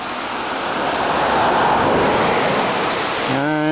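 Stream water rushing under a road and tumbling down toward Loch Long, a loud, steady broadband roar filling the whole clip, with a brief voice or tone entering at the very end.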